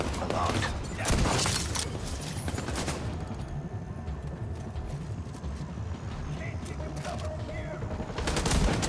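Gunfire in The Division 2: rapid bursts of shots and crackling impacts throughout, loud and dense, with someone talking over the action.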